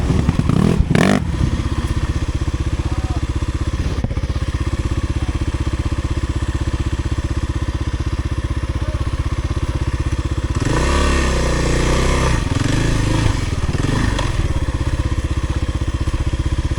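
Kawasaki KLX300R dirt bike ridden along a marked trail, its single-cylinder engine droning steadily and close for the whole stretch, with clattering bumps early on and a rise in revs near the end.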